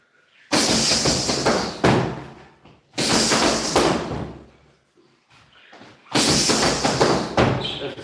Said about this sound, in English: That's a 6-punch combo.